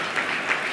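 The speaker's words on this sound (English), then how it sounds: "I was expecting some applause." Brief applause from an audience at an MFA graduate reading, a short burst of light clapping at moderate level with no talk over it.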